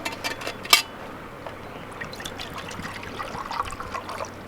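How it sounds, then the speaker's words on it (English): Water is poured into a metal canteen cup, a thin steady trickle with a sharp clink near the start, heard close up against a faint background hiss. "we'll add a little water."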